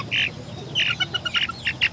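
An Easter Egger chicken crossed with a dark Brahma gives a series of short, squawky calls in quick bursts, fairly close and clear.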